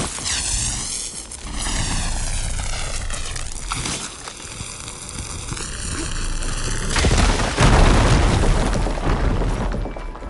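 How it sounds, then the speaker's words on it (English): Explosion of a fire gleam blocking a tunnel in Horizon Forbidden West: a loud broadband blast and rumble that swells near the end, layered over a sustained tonal game drone with sweeping harmonic tones. "Should be able to blow up that fire gleam."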